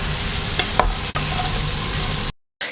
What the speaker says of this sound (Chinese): 这滋滋啦啦的声音太诱人了